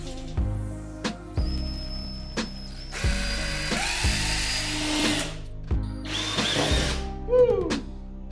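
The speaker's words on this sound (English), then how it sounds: "we got the hole in the bottom there. I had to switch drills because the drill bit was letting go" A power drill bores a hole through the bottom of a Weber Genesis gas grill, running in several loud, close bursts with motor whine and rattling metal between brief pauses.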